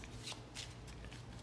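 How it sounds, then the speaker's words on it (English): A Lenormand card deck is shuffled by hand at close range, giving soft, papery riffling bursts in a quick, uneven rhythm over a quiet room hum. "I always like to shuffle it a little bit before I deal the cards."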